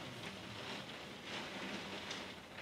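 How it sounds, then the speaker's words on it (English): Steady rain falling outside, a continuous soft hiss of drops on surfaces, moderately close and unbroken, with no voices. "Oh my God, that is actually rain."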